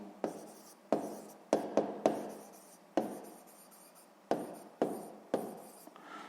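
A pen scratches across paper in short, separate strokes, each burst starting sharply and trailing off, close and quiet with pauses between strokes.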